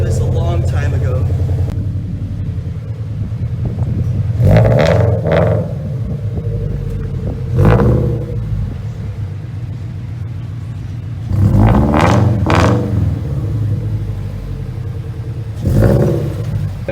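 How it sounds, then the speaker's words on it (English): Subaru BRZ with a new front pipe and over pipe, deep exhaust rumble at idle punctuated by several short sharp revs, heard close with talking over it. "With that new over pipe, it has a really deep rumble to it."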